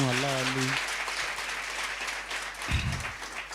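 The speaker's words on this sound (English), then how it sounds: "Let's give him a big round of applause." A voice speaks briefly over a wash of workshop audience applause that continues steadily, with a short burst of speech near the end.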